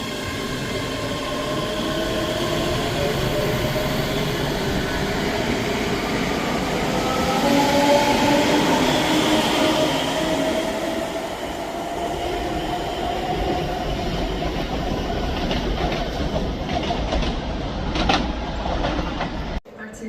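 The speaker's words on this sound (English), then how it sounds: "Departing out now is the 12:36 Scotrail service from Edinburgh Waverley to Dunblane." A Scotrail passenger train pulls out of Edinburgh Haymarket station in a steady, loud rumble of wheels and engine that swells midway and then gradually fades, with faint squeals toward the end.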